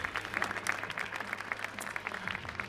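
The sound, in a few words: audience applause at WRC 2026 season launch in Monaco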